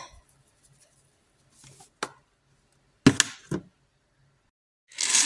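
Homemade flock block ingredients with cinnamon being mixed by hand, with a few scattered knocks and scrapes, then a sharp clatter near three seconds and a brief rustling burst at the end, separated by quiet.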